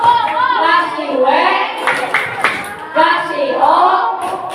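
Schoolchildren in a classroom perform a rhythmic chant-and-clap routine, sharp hand claps landing between chanted voices, loud and close.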